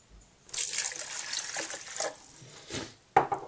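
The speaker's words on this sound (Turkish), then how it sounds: "Makineyi çalıştırmadan önce suyunu koyuyorsunuz." Water pours into the reservoir of a filter coffee machine, a close trickling stream for about two seconds, then a short second pour and a small knock at the end.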